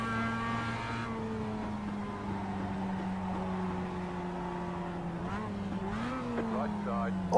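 A Mazda MX-5 Cup race car in iRacing at Oulton Park drones at a steady pitch, then revs upward as it accelerates, while a voice talks over it.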